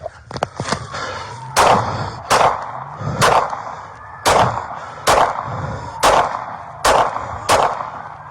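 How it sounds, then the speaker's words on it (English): Gunshots fired during a police SWAT confrontation: about a dozen loud, sharp cracks, a quick cluster at first and then evenly spaced shots roughly every second, close and echoing. "Shots fired! Shots fired!"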